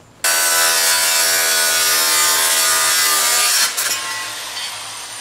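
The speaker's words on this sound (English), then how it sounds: "More grinding." An angle grinder with a 60-grit disc grinds paint and rust off the metal of a lawn mower, a loud continuous abrasive roar that holds steady for several seconds, then drops slightly and fades as it winds down.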